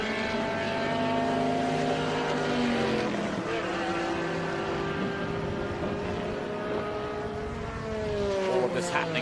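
A Corvette race car at Laguna Seca during the 2022 Velocity Invitational race day, its loud engine note sweeping past with pitch shifting down then climbing again as it powers around the circuit.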